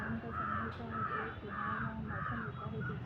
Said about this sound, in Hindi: अच्छे से यहाँ पे चिड़िया और पक्षी की आवाज़ आ रही है।